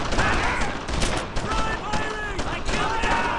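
Gunfire in the World War II shooter Brothers in Arms: Earned in Blood, a dense rattling fusillade of rifle and machine-gun shots cracking in quick irregular bursts, mixed with shouted squad voices.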